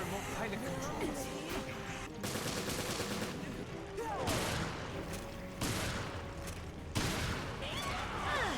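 Shotgun blasts in the video game Resident Evil Revelations, several loud booming shots in quick succession over dense battle noise, with someone talking throughout.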